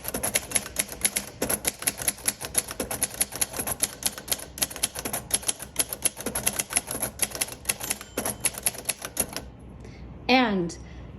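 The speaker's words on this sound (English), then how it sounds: "you heard this very faint ding that says, hey, you're at the end of your margin and now it's going to stop" Rapid, steady clatter of keys on a 1950 Royal Quiet Deluxe manual typewriter with gray keys, running for several seconds before stopping, then a single faint margin bell ding rings out alone at the end.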